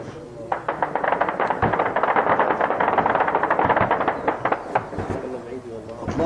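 Rapid bursts of automatic gunfire ring out during a combat assault on army checkpoints in rural Idlib, Syria. The shots come in loud, dense volleys that continue almost without pause, and voices can be heard mixed in.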